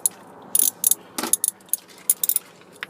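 A ratchet wrench loosens the transmission pan bolts on a 2001 Ford Focus, close and clear, with quick bursts of clicking pawl rattles separated by short pauses and no voices.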